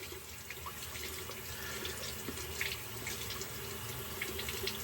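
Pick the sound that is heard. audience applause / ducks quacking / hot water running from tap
hot water running from tap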